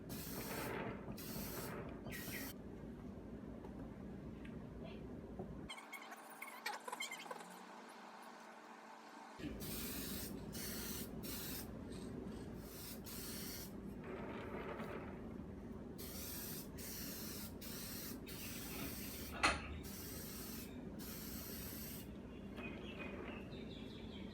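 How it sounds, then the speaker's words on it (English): Spray-on varnish hisses from an aerosol can onto a sanded wooden box in several steady bursts of a few seconds each, broken by short pauses and a brief near-silent gap. "I then gave the box a light sanding before applying some spray-on varnish."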